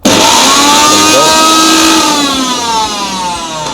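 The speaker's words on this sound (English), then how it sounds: "When I go for the pulse setting, actually it comes with a bit of a jerk." An 800-watt Havells Power Hunk mixer grinder roars on pulse setting, a loud close motor whine that jerks upward in pitch at the start and then eases off slightly, with no voices.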